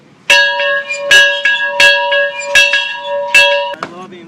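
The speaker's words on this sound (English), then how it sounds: "Let's ring this bell of freedom." A bell of freedom is rung by hand in Raleigh, five loud, clanging strikes with long ringing overtones spaced roughly a second apart, then a brief low voice at the very end.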